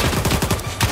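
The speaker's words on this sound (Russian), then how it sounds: "Куда он стреляет?" Rapid rhythmic bursts of automatic gunfire from the video game Stalker 2: Heart of Chornobyl, loud and close, rattling in quick succession without speech.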